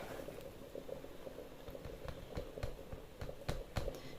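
A pot of fish soup with potatoes bubbling at a low simmer, with soft irregular pops and faint clicks over a quiet steady hiss, no voices.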